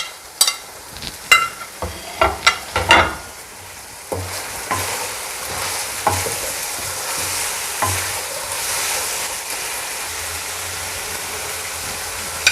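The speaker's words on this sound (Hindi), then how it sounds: "वेजिटेबल थोड़ी फ्राई हो गई हैं।" Boiled carrots, potatoes and other vegetables fry in a pan for desi-style spicy pasta, a steady sizzle broken by several sharp clinks and scrapes of a utensil against the pan early on, then softer stirring and occasional knocks.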